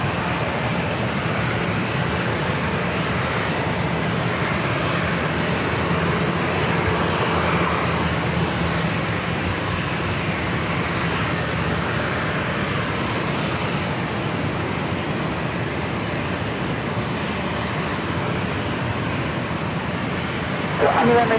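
Airliners at San Diego International Airport (SAN) create a loud, steady broadband jet roar that holds continuously, like an aircraft running up or taking off nearby, with faint traffic-like rumble underneath.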